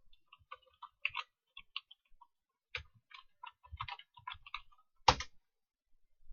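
Keys clatter on a computer keyboard in a quiet room, short uneven bursts of soft clicks with a final sharper keystroke, no talking.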